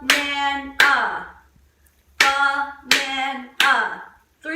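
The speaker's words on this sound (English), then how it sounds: "3 claps means 3 syllables." Three loud, close hand claps mark the syllables of the word banana, evenly spaced after a spoken word, each clap sharp with a short ringing decay.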